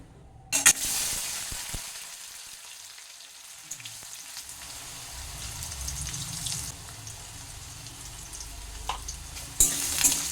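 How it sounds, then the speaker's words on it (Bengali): Diced potatoes hitting hot oil in a pan with a sharp splash, then a steady, close sizzle and occasional stirring scrapes, rising again near the end. "এই আলুটাকে আমি হালকা লাল করে এই তেলের মধ্যে ভেজে নেব"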